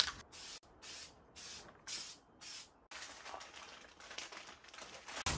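Plasti Dip coating is sprayed onto a Tesla in repeated short bursts of hissing spray, a faster uneven run of sprays following a steadier series of pulses.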